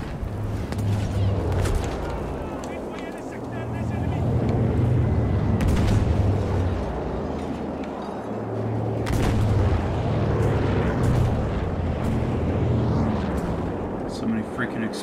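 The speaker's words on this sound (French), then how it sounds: "So many freaking explosions." Repeated booming blasts and heavy rumbles from Battlefield 5 explosions roll one after another, loud and close, with gunfire-like bangs mixed in.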